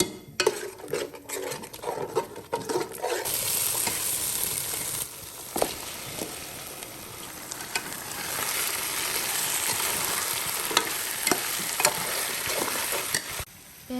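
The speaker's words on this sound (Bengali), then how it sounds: "তো সেই জন্য চিকেন কোরমাটা রান্না করতেছি" Chicken korma sizzles and fries steadily in a pan while a spoon scrapes and stirs through it, with occasional clinks of utensil against the pan over a continuous close frying hiss.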